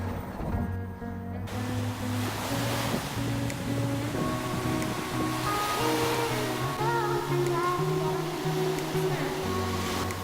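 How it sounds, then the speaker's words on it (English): Ocean waves wash and rush steadily throughout, with wind buffeting the microphone and a low hum running underneath. "The ocean is nice."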